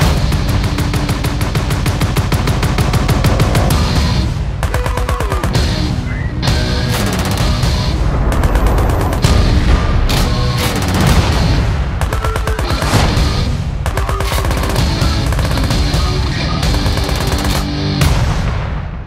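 Automatic rifle fire at a shooting range: loud, sustained bursts of rapid shots with sharp, repeated cracks and brief pauses between strings, close and dominant with no talking.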